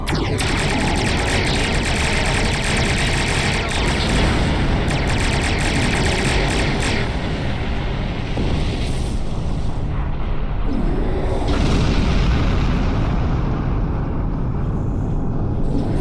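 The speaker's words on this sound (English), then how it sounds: "Warning. Ship is under attack. Engage weapons and engine." A starship comes under attack in the Star Trek Online video game, with loud, dense, sustained weapons fire and explosions roaring without pause.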